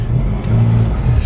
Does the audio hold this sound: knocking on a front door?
no